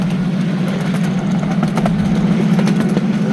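A miniature live steam train on a ride-on track at Ridge Live Steamers, cruising along a straightaway with a loud, close, steady rumbling drone and faint rhythmic clatter, no talking.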